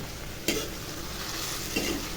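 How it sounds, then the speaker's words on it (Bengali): Mashed potato fries in hot oil with a steady hiss, broken by two brief scraping stirs of a utensil in the pan, close and moderately quiet, with no talking. "যে আলুটা মেখে রেখেছি তেলের মধ্যে দেব"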